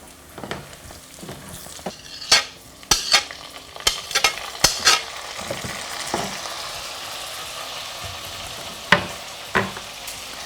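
Tomatoes are stirred into softened onions sizzling in a pot for beef stew, with a steady background fry and a series of sharp scraping and clacking spoon strokes at irregular intervals.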